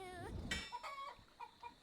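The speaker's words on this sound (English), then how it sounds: "2 chickens." A couple of video game chickens cluck and squawk in short bursts, clear and close, with a brief electronic quality and no talking.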